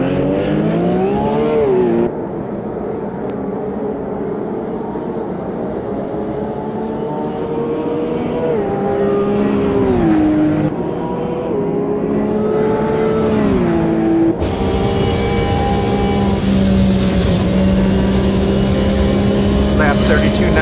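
Onboard a Porsche Cup race car at the Long Beach street circuit, the engine drones loudly and continuously, its pitch climbing and dropping through gear changes as speed rises and falls, with a commentator talking over it.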